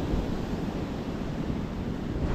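Ocean waves at Pitinga beach in Arraial d'Ajuda, a continuous broadband wash of surf mixed with wind noise, loud and steady with no voices.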